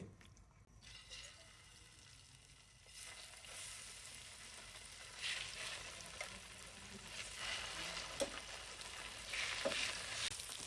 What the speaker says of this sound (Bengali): আমি অল্প একটু সয়াবিন তেল দিয়ে দিচ্ছি আর চিকেনগুলো ছেড়ে দিচ্ছি